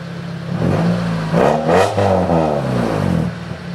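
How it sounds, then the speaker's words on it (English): Engine of a 1996 Honda Accord fitted with a chipped P28 ECU, already rough at idle, revs up and falls back in a couple of close, loud swells. "The idle's a little bit rough, but the idle was a little bit rough before"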